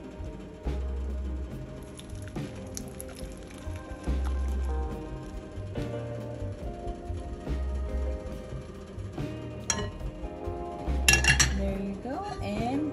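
Metal pots and utensils clink and clatter up close while boiled sugar and salt syrup is strained for a Visayan rice dessert, with irregular scrapes and sharp chinks throughout.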